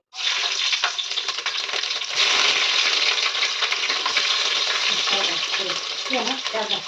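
Two chopped green chillies dropped into hot tempering oil for an egg gravy, a steady loud crackling sizzle with stirring scrapes, starting abruptly and continuing throughout.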